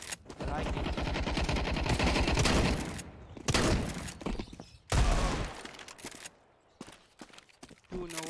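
Nova shotgun blasts in Counter-Strike 2 gameplay, a long dense burst of rapid gunfire followed by a few separate sharp booming shots, loud and close, with a voice speaking briefly.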